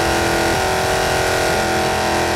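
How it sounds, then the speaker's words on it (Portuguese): A badly damaged Dodge Challenger Demon engine in BeamNG, with no oil or pistons left, roars loudly and steadily with a harsh metallic grinding edge, continuous and close, with no talk. "Barulho de ferro."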